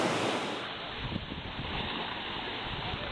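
Surf at Cane Garden Bay beach in the Caribbean makes a steady broad rush of breaking waves, loud and continuous, mixed with some wind noise on the microphone.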